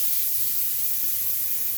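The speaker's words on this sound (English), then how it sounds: "You're not hearing a real good sizzle." Meat sears in a pan that is not hot enough, giving a continuous, even sizzling hiss close by with no talking.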